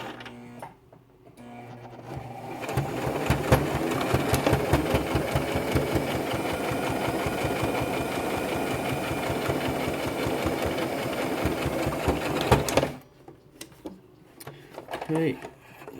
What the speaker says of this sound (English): So then you want to go in and start sewing it to close it up.